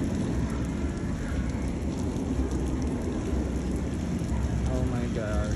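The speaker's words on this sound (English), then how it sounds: "It is raining." Steady rain pours down at an outdoor French-speaking Six Flags amusement park, a dense continuous hiss filling the scene, with faint distant voices and brief chirpy tones near the end.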